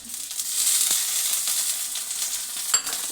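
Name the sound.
tomatoes and chillies sizzling as they are added to the pan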